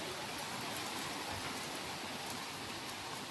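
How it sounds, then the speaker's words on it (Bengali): Rain falls as a steady, even hiss of drops on surfaces, faint and constant without pauses. "এই দেখেন বৃষ্টি শুরু হয়েছে"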